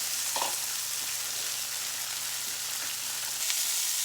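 Bay scallops and asparagus frying in a pan, a steady soft hiss of sizzling oil heard close and alone, with a couple of faint stirring knocks.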